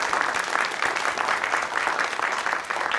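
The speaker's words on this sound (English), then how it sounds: "will you please give Wendy Sapp a round of applause for all that she does" A congregation at a Unitarian Universalist Sunday church service claps together in a warm, steady round of applause, many hands patting evenly at moderate volume with no voices over it.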